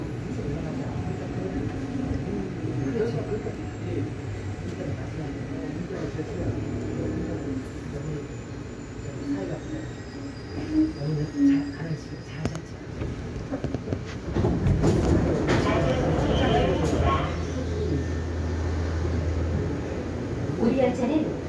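A Korean Line 1 electric shuttle subway train between Guro and Gwangmyeong rumbles steadily with a low hum, swelling louder near the end as it gathers speed, with voices murmuring faintly beneath.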